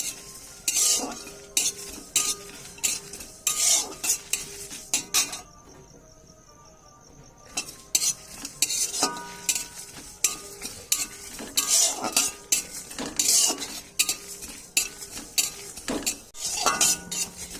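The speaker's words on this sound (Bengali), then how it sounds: "এগুলো চটপট করে ফুটছে, মানে ভাজা হয়ে গিয়েছে" Whole chilies, cumin, coriander, fennel and garam masala dry-roasting in a wok over medium flame, with a steady crackle and dense rapid popping, a brief quiet gap partway, then scraping stirs resuming close and fairly loud.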